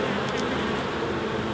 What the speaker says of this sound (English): That's a carpet of bees on there.